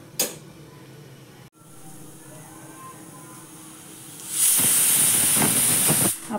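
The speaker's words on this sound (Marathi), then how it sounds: "आपण कुकरच्या 4 शिट्ट्या करून घेतलेल्या आहेत." A kitchen pressure cooker holding a country-style pavta and potato curry lets out its whistle: after a quiet stretch, a loud, sharp hiss of escaping steam bursts out and sustains for about two seconds before cutting off.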